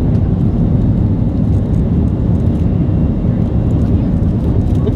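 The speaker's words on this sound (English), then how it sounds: "We are on a power climb." An airplane engine roars steadily and loudly during a takeoff power climb while the aircraft banks, a dense continuous drone with no talk.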